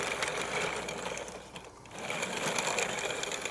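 Whirring electric motor and gear drone of a 1/16 Forces of Valor Tiger I toy tank driving in reverse and forward, steady and fairly quiet with a brief dip midway as it changes direction.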